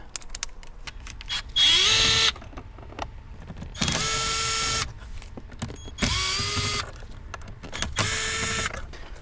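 Screws being backed out of a Nissan car radio with a powered screwdriver, four whirring bursts each rising in pitch, separated by quiet handling and clicks.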